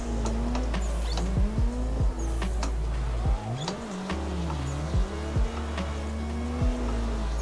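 An S13 coupe in World Drift Tour street trim drifting in the Assetto Corsa game, engine note rising and falling as it revs, with repeated tire squeals cutting in over the steady drone.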